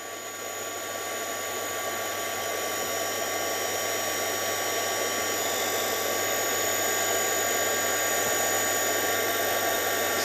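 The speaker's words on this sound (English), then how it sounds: "It's not as powerful, this heat gun, which is better because it doesn't warp your cardstock as much." A heat gun blows steadily on cardstock for stamping and die-cut craft work, a continuous, fairly loud broadband whoosh with a faint motor whine, holding even throughout with no talking.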